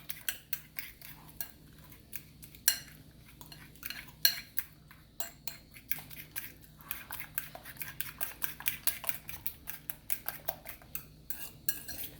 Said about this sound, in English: You use it and you whisk it. We're trying to mix everything together.